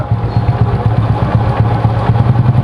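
Honda Supra motorcycle engine running close by, a loud steady idle with a rapid even putter and light mechanical clatter.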